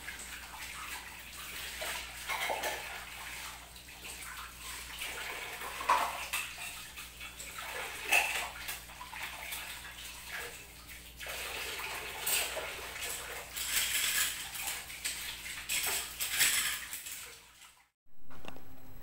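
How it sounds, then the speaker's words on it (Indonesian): Running water pours from a tap over soaped dishes being rinsed, a continuous close splashing and gurgling that keeps going before cutting off abruptly near the end. "Sekarang dibilas biar mempersingkat waktu."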